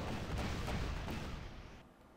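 Artillery fires in the Panzer Corps World War II strategy game, set in the 1941 Moscow campaign: a dense, rumbling barrage of booms that holds steady and then fades in the last moments.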